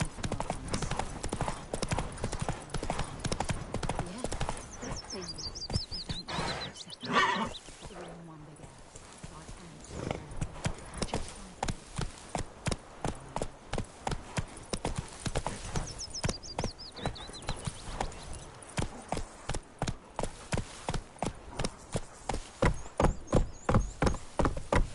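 Horse hooves clip-clopping in The Witcher 3, a steady, loud rhythmic gallop of hoofbeats with a brief pause partway through, then the even trotting resumes under a voice.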